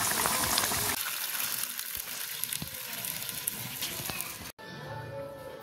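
A Bengali cashew-paste oil-chili curry with bata fish bubbles and sizzles in a pan, a steady close frying hiss with a short break near the end.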